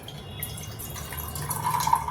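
Water is poured into a cooking pot for biscuit halwa, to be boiled before sugar is added: a steady close splashing fill whose pitch rises slightly toward the end, with no talking.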